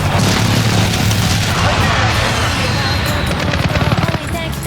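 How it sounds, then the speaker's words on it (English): Airstrike explosions in the video game Call of Duty Modern Warfare: a dense, loud, continuous barrage of booming blasts and crackling gunfire-like bursts that rumbles on without pause and eases slightly near the end. "Enemy precision airstrike."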